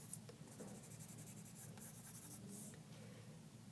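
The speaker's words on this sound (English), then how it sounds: "all of my pencil strokes are going in the same direction" Pencil shading strokes on paper, a soft continuous scratchy rasp of steady repeated strokes in the same direction, close and faint.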